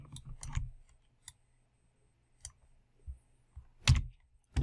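Mouse clicks on a computer while right-clicking through dialogue boxes during 3ds Max kitchen modelling, a sparse run of short sharp ticks at uneven intervals, close and fairly quiet with no talk.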